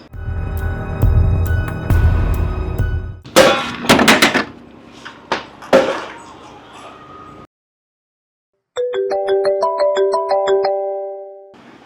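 A melodic electronic ringtone plays near the end after a pause, preceded by loud knocking and banging thuds.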